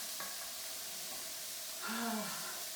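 Onions and garlic sizzling in a pan for cauliflower tacos, a soft, steady hiss with faint stirring and a brief voice in the background.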